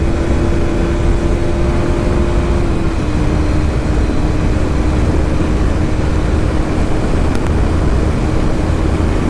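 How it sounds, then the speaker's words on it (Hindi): Strong wind roars constantly past a rider on a 2023 KTM Duke 200 naked motorcycle carrying a pillion, a loud broadband buffeting that drowns most detail, with a faint steady engine tone underneath. "भाई विंड बहुत ज़्यादा आ रहा है।"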